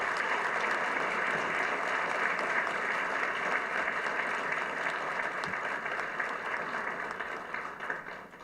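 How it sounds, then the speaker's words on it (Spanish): Sustained applause from an audience for an author at a book presentation, a steady wash of clapping that holds at moderate volume and begins to fade near the end. "le tributemos al autor y a sus obras un aplauso merecido."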